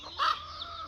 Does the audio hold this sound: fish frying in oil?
no